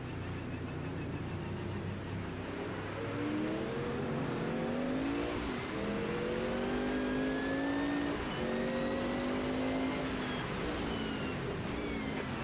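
Group C sports car engine in the racing game Automobilista 2, on a wet track with the throttle feathered, a loud continuous engine drone rising and falling in pitch under steady road and spray noise.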